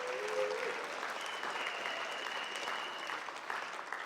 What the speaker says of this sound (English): big round of applause for my team for putting this thing together.